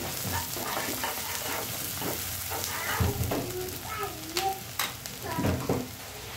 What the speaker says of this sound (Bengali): এখন পেঁয়াজগুলোকে সফট করে নিব। এখন দিয়ে দিচ্ছি হাফ চামচ গোটা জিরা,